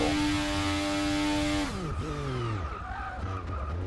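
Formula 1 car in the Forza 6 racing game braking hard into a corner, its high engine whine dropping sharply as tyres screech and skid, loud and close with no talk.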